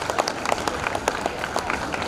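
Audience clapping at an educational festival event, a steady wash of many hands applauding together for a child's correct answer, dense and continuous with sharper individual claps popping through.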